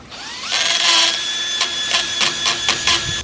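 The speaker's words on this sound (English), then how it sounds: "Hammer drill and a diamond point drill, but it gets the job done." A hammer drill with a diamond point bit bores into a hard surface nearby. A high whine holds steady through the first second, then comes in several short, stuttering bursts as the trigger is pulled and released.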